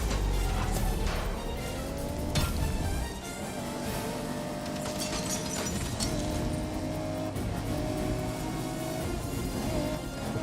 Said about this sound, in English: The car is not that easy to control.